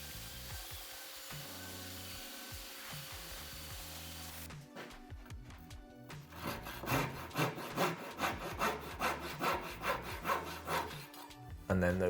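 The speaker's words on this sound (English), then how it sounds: "We'll finish that up with a sanding pass in the direction of the wood grain" A veneered wooden boat bulkhead frame sanded along the grain, the steady rubbing giving way to a rhythmic back-and-forth rasp of regular strokes, close up and with no talking.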